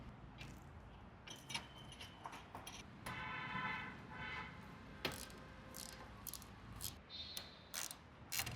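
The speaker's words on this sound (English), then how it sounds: "This uses a 6mm Allen key." Small metallic clicks and scrapes from a 6mm Allen key turning bolts on a motorcycle top rack for a Royal Enfield Interceptor 650, close up and irregular, with brief ticking and light jingles over a low background hum.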